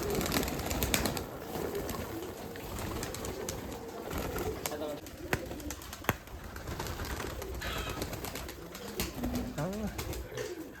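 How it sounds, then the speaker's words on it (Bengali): Giribaz pigeons coo repeatedly throughout, some close and some farther off, amid rustling, flapping and scattered bird calls in a busy coop. "ঘরের মধ্যে চলে আসছে কবুতরগুলো"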